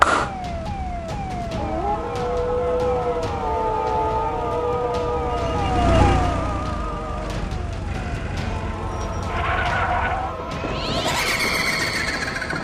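A loud wailing cartoon ambulance siren cycles up and down over continuous traffic rumble, with a second warbling tone joining near the end.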